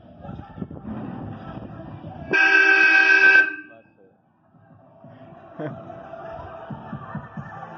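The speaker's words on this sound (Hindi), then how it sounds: "हॉर्न बजाइए।" A loud, steady horn blast from a modified Ford 3600 tractor lasting about a second, close by, with its engine rumbling and people talking before and after.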